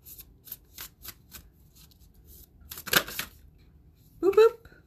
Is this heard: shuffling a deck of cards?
yes